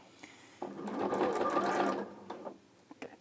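A domestic sewing machine stitching bulky fabric for dressmaking, one steady whirring run of about a second and a half, close and clear, with faint talk around it.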